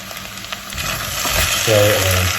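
Diced potatoes and leeks fry in a soup pan, a steady close sizzle with faint stirring scrapes, rising slightly as a low hum enters near the end.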